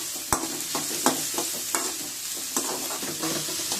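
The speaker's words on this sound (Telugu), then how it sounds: "gold colour light gold colour వచ్చే వరకు మనము ఈ ఆనియన్స్ని ఇలాగ బాండీల్లో వేయించుకోవాలన్నమాట" Onions and green chillies frying in oil in a kadai until light golden, with a steady sizzle broken by several sharp spoon scrapes and stirring knocks against the pan, close and alone.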